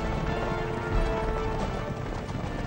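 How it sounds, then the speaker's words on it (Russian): A team of six horses pulling a 1902-pattern field gun clatter along with heavy hoofbeats mixed with rumbling and creaking, a busy, dense mass of sound. "Возимая шестеркой лошадей, полевая пушка образца 1902 года могла двигаться в одном темпе с конницей."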